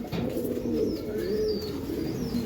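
Silver baga pigeons coo in soft, repeated rolling calls close by, with a few thin chirps from other birds over a steady background hum.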